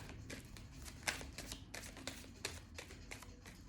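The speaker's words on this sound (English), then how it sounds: "Another 2 shuffles" Rapid papery riffling of tarot cards being shuffled, in quick bursts with brief pauses between, close and moderately quiet.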